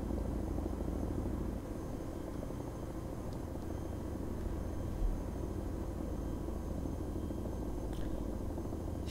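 A steady, droning aircraft engine hums continuously inside the DayZ Epoch survival game, an even mechanical roar with no talking over it.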